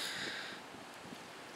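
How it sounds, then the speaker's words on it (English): Wind blows outdoors in a rushing hiss, strongest at first and then easing to a faint steady rumble, with no voices over it. "It's getting a little windy."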